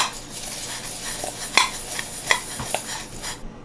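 Panko breadcrumbs being stirred together with melted butter, with soft scraping and scattered clinks of a utensil against a bowl over a few seconds, no talking.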